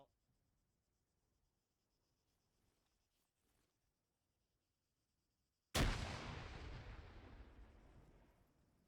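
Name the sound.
hand grenade exploding during army training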